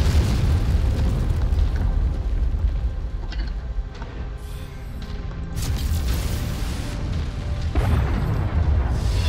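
Heavy artillery barrages in the mech combat game MechWarrior 5, Long Tom guns pounding with a continuous run of deep booming explosions and crashing blasts, loud and dense throughout.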